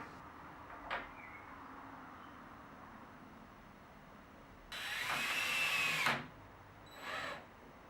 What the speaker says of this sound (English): Using a Forstner bit, I drilled some recesses in the size of the magnets into the frames.